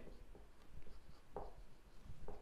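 Marker or chalk strokes on a board during a maths lesson, soft scratchy squeaks in a few short bursts over a quiet room, with no talking.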